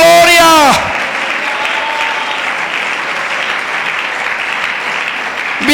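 After a brief voice at the start, a church congregation breaks into steady, sustained applause during a Sunday school service, a dense wash of clapping that holds evenly to the end.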